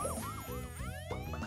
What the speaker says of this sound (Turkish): İtfaiye kamyonu.